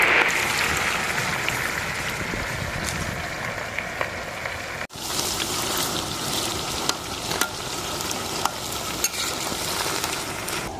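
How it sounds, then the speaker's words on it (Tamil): Loud, dense sizzling of chicken frying in hot oil, continuous and close, with occasional stirring clicks and a brief dip midway. "இப்போ நம்ம சிக்கனை போட்டு பொரிக்கும்."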